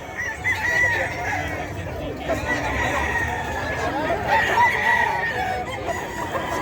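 Roosters at a gamefowl market crow and cluck repeatedly over a dense, steady crowd murmur, several birds overlapping near and far while people chatter throughout.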